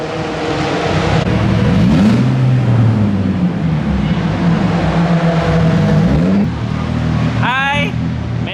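A race car laps the Sepang circuit in Malaysia on a taxi ride, its engine droning loud and close with rising and falling revs, and a brief high whine near the end.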